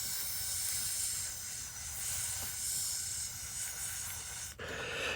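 Breath blown through a straw onto a model river surface on an N scale model railroad layout, a steady close breathy hiss lasting several seconds with a brief dip near the end.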